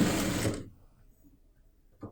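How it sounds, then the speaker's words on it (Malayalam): Sewing machine stitching the neckline of a churidar made over from a nighty, a loud steady whirring run of about half a second that stops abruptly, followed by quiet and a brief faint knock near the end. "ഇനി നമുക്ക് നെക്ക് ഇതുപോലെ നല്ല വശത്ത് സ്റ്റിച്ച് ചെയ്യാം."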